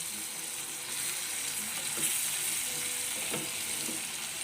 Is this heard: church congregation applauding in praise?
no